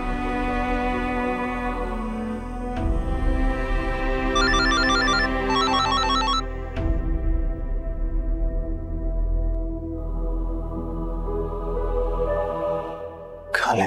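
A landline telephone rings at night indoors with a repeating electronic ringtone pattern, steady and fairly loud over a dramatic musical background, with no talking.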